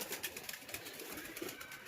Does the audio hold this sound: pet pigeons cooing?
yes